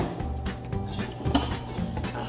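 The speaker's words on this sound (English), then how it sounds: "So I start with putting all the silverware and the dishes just right into the water." Silverware and dishes being lowered into water in a residence hall kitchen sink, giving a steady run of soft clinks and muffled clatter with sloshing, close and moderately loud, with no talk.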